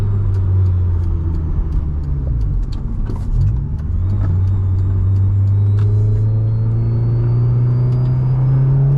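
Honda S2000 engine revving high toward 9,000 RPM, a loud, steady, rising wail heard from inside the car, with a brief dip and recovery midway.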